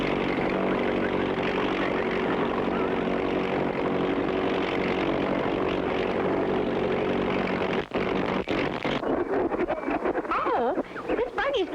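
Cartoon airplane engine drones loudly and continuously, then cuts out and sputters near the end as talk begins over it.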